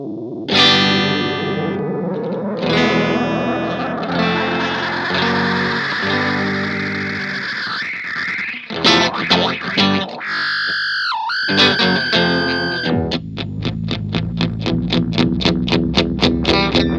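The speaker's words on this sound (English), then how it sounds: "playing with I guess the white noise coming out of the pedal" Heavily processed electric sound from an effects pedal: distorted sustained tones, swooping pitch bends and warbling, ending in a rapid stuttering pulse. No voices.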